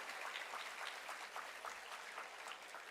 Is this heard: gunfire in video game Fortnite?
no